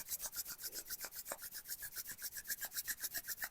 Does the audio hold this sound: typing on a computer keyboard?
no